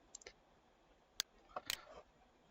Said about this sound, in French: Donc, je fais un clic gauche pour valider sa position.